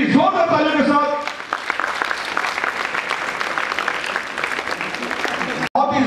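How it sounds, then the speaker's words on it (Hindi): An audience applauds as a guest is called onto the stage at a traffic awareness week event, a strong sustained burst of clapping rising right after a spoken announcement and running until a sudden cut near the end. "प्लीज जोरदार तालियों के साथ"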